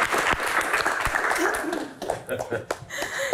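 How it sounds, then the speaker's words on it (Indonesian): Applause from an audience at a Q&A session, a burst of clapping mixed with chuckles and voices talking over it, fading into speech toward the end. "Tepuk tangan."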